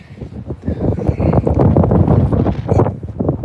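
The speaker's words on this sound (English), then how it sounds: "Good Lord, it is windy" Strong outdoor wind buffeting the microphone on a farm, a loud continuous roar of gusts and rumbling wind noise, with no voices.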